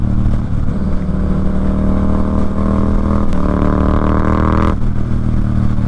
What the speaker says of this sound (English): This bike pulls like a damn sport bike. And she sounds amazing.